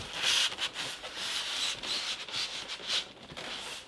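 A tool is pulled out of its cardboard box: close, repeated scraping and rubbing strokes of cardboard sliding against cardboard, uneven in rhythm, with no speech.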